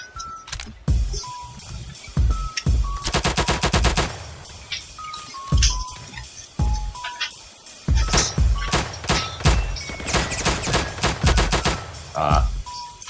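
Full-auto gunfire in a video game crackles in rapid bursts, loud and close, with sharp single shots between the sustained strings, while players talk over the shooting.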